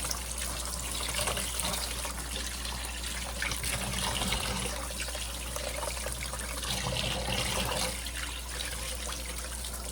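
Small fish being washed in running water, a continuous close splashing and trickling with steady rushing flow and faint handling noises throughout.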